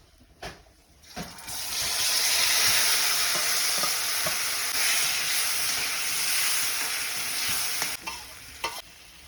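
Raw Raywal mangoes tipped into hot tempering with turmeric and masala over a wood-fired stove in Konkan. A loud, dense sizzle bursts up after about a second and stays steady, with light stirring knocks and no talking.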